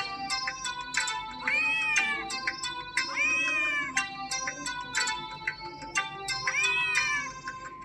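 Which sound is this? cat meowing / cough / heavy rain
cat meowing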